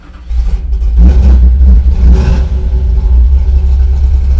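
A 600 hp 1967 Dodge Dart with a fully caged convertible body and a performance cam fires up and settles into a loud, lumpy, choppy idle, close by and alone with no talk.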